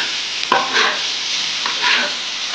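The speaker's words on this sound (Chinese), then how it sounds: "酸菜大家给炒炒" Pickled mustard greens and fish bones stir-fried in a wok: a steady, close hiss of frying with a few scraping stirs and clatters of the spatula.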